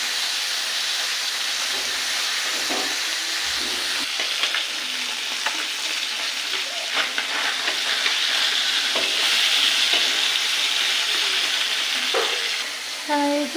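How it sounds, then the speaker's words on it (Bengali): Fish sizzling steadily in hot oil in a kadai (wok) for a Bengali fish jhal with potatoes, a dense continuous crackle and spatter held close and loud throughout, with occasional clinks near the end and no talking. "কড়াই গরম তেল দিয়ে মাছ ভাজতে বসিয়ে দিয়েছি"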